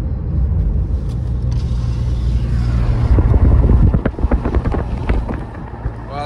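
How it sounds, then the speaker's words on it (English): Wind roars and buffets around a car driving through a snowstorm near Big Bear, a loud, steady rush, with creaks and rattling bursts toward the end. "that snow is blowing."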